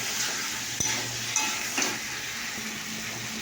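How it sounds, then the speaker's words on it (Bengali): Potatoes fry in hot oil in a pan with a steady broadband sizzle, while a few soft scrapes and clinks from stirring sound close by, with no talking. "এবার আমি আলু কটাকে দিয়েছি, আলু কটাকে দিয়ে দেবেন, নাড়াচাড়া করবেন।"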